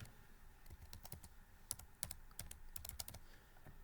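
A phone number being keyed in on a computer keyboard: a quick run of close, crisp key taps at a quiet level, steady and uninterrupted, with no voices.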